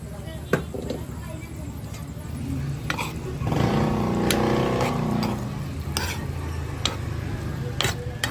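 A spoon stirs leftover stew in a metal pot after a splash of water, scraping and clinking against the sides with a wet, swelling bubble in the middle, while someone talks throughout.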